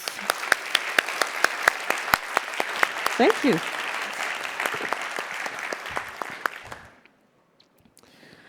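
An audience at an education conference open mic session claps steadily for several seconds, with a brief spoken thanks in the middle, then the applause stops abruptly into near silence.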